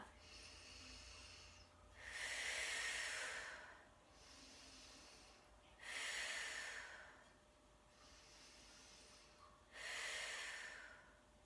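Slow, deep breaths during a yoga breathing exercise, three long airy inhales or exhales spaced about four seconds apart, close and soft with quiet pauses between.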